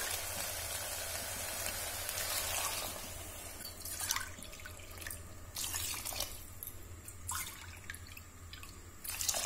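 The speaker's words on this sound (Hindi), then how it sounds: "ये मैंने 6 कटोरी पानी डाल दिया है" Water splashes and patters continuously into a pot of moong dal and rice for khichdi nearby, with a few scattered clinks and knocks, moderately quiet.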